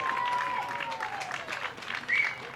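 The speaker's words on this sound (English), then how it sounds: "To great applause from the crowd." A crowd applauds as a player comes off in a substitution at a women's college soccer match between Carthage and Kalamazoo, steady distant clapping across the stands with a faint whistle and a commentator's voice underneath.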